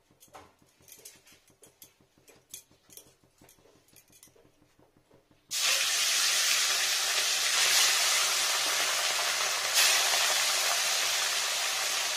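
Fish slid into hot mustard oil sets off a sudden loud, steady sizzle after several seconds of light clicks and taps, frying on close and continuous with one brief flare partway through.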